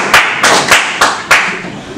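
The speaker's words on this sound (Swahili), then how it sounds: "Makofi kwa mwenyekiti jamani" A crowd at a public meeting gives the chairman a short round of applause, a few loud, close bursts of clapping in quick succession.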